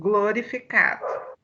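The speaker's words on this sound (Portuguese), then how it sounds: "Tem um cachorro latindo aí." A dog barks close to a listener's microphone during a church Bible study, giving a few quick, loud barks mixed in with a person speaking.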